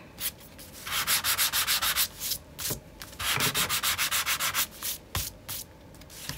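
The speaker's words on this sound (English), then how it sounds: "It's not sanding off my stitches, okay." Rapid back-and-forth sanding on a paper journal page in two rhythmic bursts of scratchy rubbing strokes, close and fairly loud, with short pauses between.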